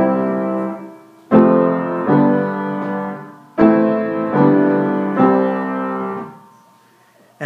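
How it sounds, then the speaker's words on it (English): Piano playing full chords in a steady quarter-note rhythm with rests, several struck chords in two phrases that ring and fade between hits, with no voice. "Finally, if I were to play this rhythm on a piano and use more notes to create music,"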